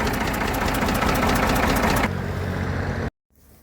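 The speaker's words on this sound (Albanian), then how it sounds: "Kjo e traktori i vjetër" An old tractor engine running on a farm, a loud close rumbling drone with a knocking pulse that drops in level partway, then cuts off abruptly before faint noise returns.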